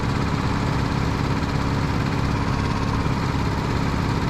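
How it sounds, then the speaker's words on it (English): A race car engine at a 1-hour challenge race in Zwolle revs on the starting grid, a steady loud continuous engine drone with no talk. "now just revving the engine"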